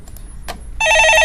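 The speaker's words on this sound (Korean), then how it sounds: "예, 전화 받아보겠습니다." A telephone rings loudly and steadily on a Korean radio stock-market call-in show, a bright electronic ring that starts abruptly after a few faint clicks and continues alone.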